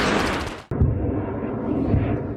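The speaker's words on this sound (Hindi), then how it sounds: "इजराइल के आसमान में भीषण धमाके देखे गए।" Rocket explosions over Israel as Iron Dome intercepts a Hezbollah Katyusha barrage aimed at Haifa: dense roaring blast noise, a sharp cut, then a sustained deep rumbling boom continuing without speech.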